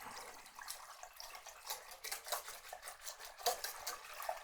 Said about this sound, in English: Kind of whisk this up.